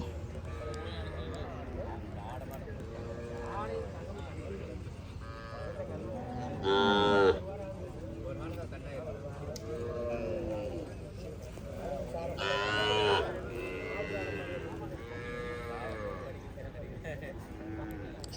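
Kangayam cattle low and moo at a Kangayam cattle market, with two louder calls rising above the steady murmur of people talking nearby.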